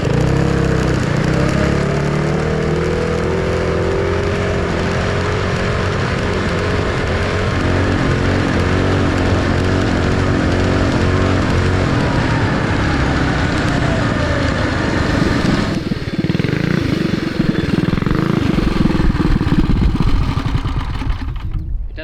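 Modified Trailmaster MB200 mini dirt bike engine running steadily at speed, a loud, continuous engine drone with shifting pitch and clattery vibration throughout, close to the rider and with no talking over it.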